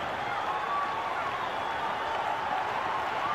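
Cricket crowd at Kingsmead roaring on its feet as a batsman chases a sixth six in an over, a steady, dense wash of cheering and applause held at constant loudness throughout.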